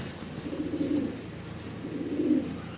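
A pair of big black stesar fancy pigeons coos close by, two low rolling coo bouts separated by a short pause, with no talk.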